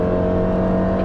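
A 2019 Subaru Forester 2.0i-S engine pulling hard on the road: a steady, loud engine drone with a constant whirring tone, heard from inside the car with no talking.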